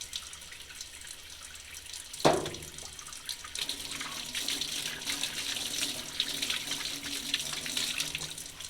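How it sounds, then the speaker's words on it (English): Tap water runs steadily into a sink while a paint roller head is rinsed, with a sharp knock early on and then a continuous close splashing flow. "Rinse off your roller head."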